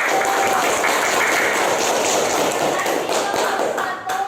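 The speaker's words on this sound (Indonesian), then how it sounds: "Beri tepuk tangan untuk kelompok 1." Loud, dense applause from a classroom audience for a student group after a teaching performance test presentation, a continuous close-up roar of clapping that eases slightly near the end.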